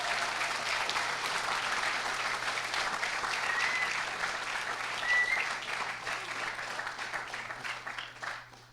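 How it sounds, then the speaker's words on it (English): A large crowd at hackNY opening ceremonies gives hackathon organizers a long, full round of applause, a dense roar of clapping held steady and loud before tapering off at the end. "So let's give them the biggest round of applause yet."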